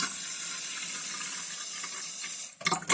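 Tap water pours steadily into a stainless steel kettle, a close, continuous rushing hiss that cuts off near the end into a few clattering knocks.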